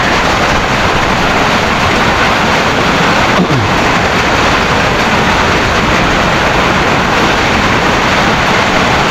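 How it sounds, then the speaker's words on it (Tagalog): Heavy rain pours down on a roof in a dense, constant roar, loud and close throughout, with no voices. "Lakas ng ulan."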